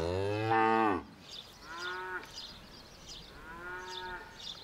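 A cow in a barn lowers out three loud, drawn-out moos, the first long and strong, the next two shorter and a little softer, with quiet gaps between them.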